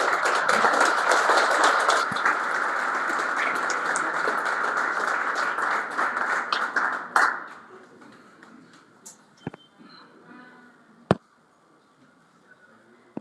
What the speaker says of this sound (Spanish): Recibámosla pues con un sentido aplauso